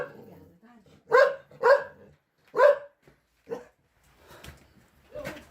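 Abandoned, neglected dogs at a police rescue scene bark in several sharp yelps spread across a few seconds, moderately close, with quieter scuffling and faint background sounds between them.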